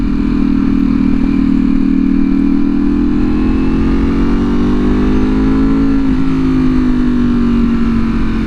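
A V4R sport motorcycle with a full Akrapovic undertail exhaust rumbles loudly and steadily up close, its deep exhaust note shifting slightly in pitch partway through.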